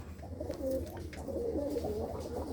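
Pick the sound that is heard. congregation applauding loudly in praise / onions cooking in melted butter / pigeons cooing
pigeons cooing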